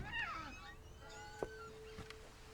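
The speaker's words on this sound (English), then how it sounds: "I heard a cat." A cat meows a few times inside the video game What Remains of Edith Finch, a short, quiet cry set against faint ambient background.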